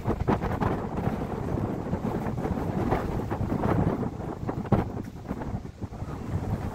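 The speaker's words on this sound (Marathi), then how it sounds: "खूप वारं सुटलंय." Strong wind blows across a misty hilltop near a fort outside Pune, battering the microphone in a steady, rumbling roar. Sharper gusts break through now and then, with no talking.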